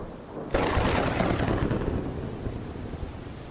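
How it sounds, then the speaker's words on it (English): After a brief quiet moment, a loud crack of thunder breaks out and rolls into a steady, heavy downpour of rain at a lake, filling the scene. "Couldn't hear anything but the falling water and loud thunder."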